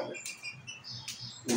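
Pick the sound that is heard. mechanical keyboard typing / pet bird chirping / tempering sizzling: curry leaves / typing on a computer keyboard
pet bird chirping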